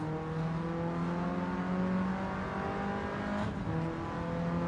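A small rally car engine in Gran Turismo 7 drones steadily with a throaty hum, revving slightly as it drives along, synthetic and continuous with no voices.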